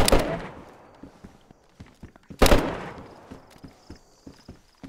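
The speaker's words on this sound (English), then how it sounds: "He's shooting at someone outside or trying to shoot at me." Video game gunfire with two loud close shots followed by a scatter of quicker, fainter cracks and distant pops, set against a quieter background.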